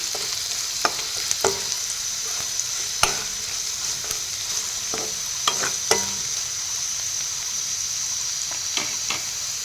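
Spices with salt and turmeric sizzle steadily in a pan for a village-style fish curry. A spoon strikes and scrapes the pan in scattered, crisp taps over the continuous frying hiss, and nobody speaks.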